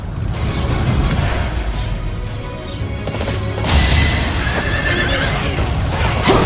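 A horse in the video game Fire Emblem: Three Houses neighs loudly in a long, continuous whinny over dense game noise and hoof clatter.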